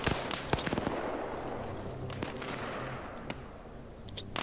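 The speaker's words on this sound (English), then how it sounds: "Let's see if I can get a grenade throw in." Grenade thrown in the Arma 3 military game bursts among crackling gunfire, a sharp blast followed by scattered pops and rattling shots across a steady battlefield din.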